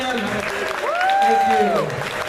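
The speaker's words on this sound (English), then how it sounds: "A round of applause one more time for the parents." Wedding guests applaud the groom's parents, steady clapping heard under a loud voice that rises over it in the middle, filling the brief moment.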